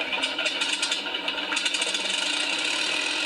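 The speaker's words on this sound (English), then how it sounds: "The sound of engine number 3" Engine number 3 of an Avro Lancaster starts up at East Kirkby with a dense, rattling mechanical clatter that builds into a steady, loud churn.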